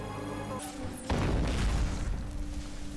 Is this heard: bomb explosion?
yes